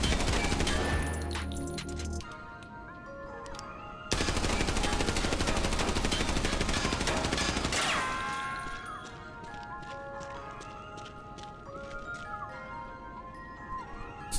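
M4 assault rifle fired in the video game Arena Breakout Infinite, with dense, sustained automatic bursts loud and close, broken by a short pause before firing resumes and then tails off into quieter in-game noise.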